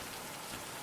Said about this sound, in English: only the pitter-patter of rain can be heard